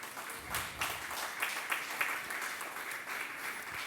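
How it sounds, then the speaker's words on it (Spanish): A church congregation applauds in steady, fairly dense clapping that runs throughout, at moderate level with a few louder bursts and no clear speech over it. "Dele una ofrenda de palmas al Señor."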